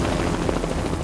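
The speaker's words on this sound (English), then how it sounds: "The helicopter rotor whips up loose gravel, making it impossible to land." Helicopter rotor thumping steadily as the aircraft hovers low over a gravel driveway, loud and close with broadband wash throughout the second.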